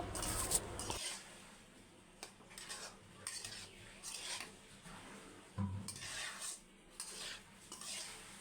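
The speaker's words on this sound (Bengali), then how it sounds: "এবার আমি আলুটা দিয়ে দিলাম। আলুটা দিয়ে একটু নেড়ে ছেড়ে দিব।" Bottle gourd peel and potato are stirred in a pan with a utensil, giving soft repeated scraping and clinking strokes at a close distance, with quiet gaps between them.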